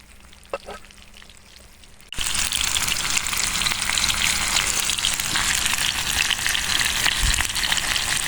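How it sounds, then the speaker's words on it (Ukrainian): Quiet at first, then a loud, steady sizzle erupts as sweet potato hits a hot pan and keeps frying continuously. "Поки батата моя жариться, смажиться точніше"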